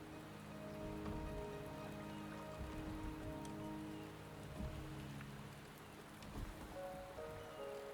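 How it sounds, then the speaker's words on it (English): Steady rain falls in the video game Wuthering Waves, a soft continuous patter of drops with faint tonal game music underneath, no voices. "The rain is subsiding, and the sky will soon clear."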